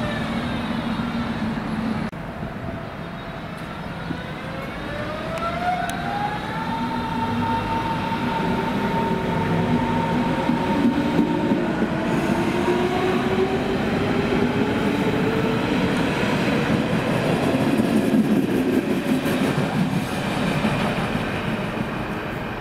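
A Berlin S-Bahn S41 Ringbahn train stands at a platform, its motors whining in rising and falling tones over a steady low rumble, with no voices.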